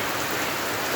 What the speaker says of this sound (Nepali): यस्तो नमजाले झरी परिरहेको छ